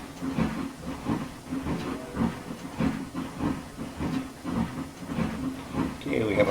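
A steam locomotive, engine 404, an 1886-built L1 2-8-0, works a freight train from Nelson toward Slocan City in the Trainz simulator, giving steady rhythmic chuffing with hiss and rail clatter at a constant level.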